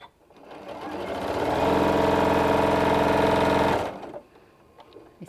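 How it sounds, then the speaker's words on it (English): A sewing machine stitching fabric for a LeMoyne Star quilt block runs in one steady, loud burst of rapid stitching lasting a couple of seconds, then stops, leaving faint handling noise. "So I'm going to sew right to it and then take a step back."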